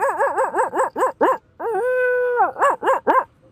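A voice imitates a dog, giving a quick run of yapping barks, then a drawn-out howl, then more barks, close and clear with nothing else around.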